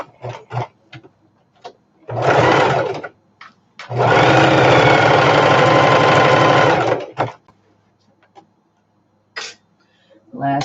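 A sewing machine stitches a seam on a fabric storage bin, running in a short burst and then a longer steady run of about three seconds, loud and close, with small handling noises in the gaps.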